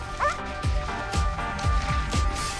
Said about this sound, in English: The dogs wants to get going too.